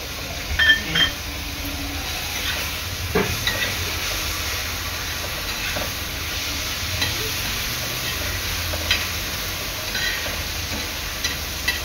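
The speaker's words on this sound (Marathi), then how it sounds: "आपली अद्रक लसूणची पेस्ट ना चांगली तेलामध्ये 1-2 मिनिटं शिजवून घ्यायची आहे।" Ginger garlic paste fries in oil in a pan while being stirred, a steady close sizzle and hiss with occasional scraping clicks throughout.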